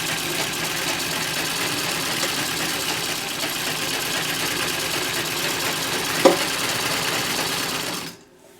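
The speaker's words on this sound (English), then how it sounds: "What you may be noticing is how much this machine is rattling." A sewing machine runs steadily with a loud mechanical whir and rattle from sitting on an uneven floor, one sharp knock near the end before it stops abruptly.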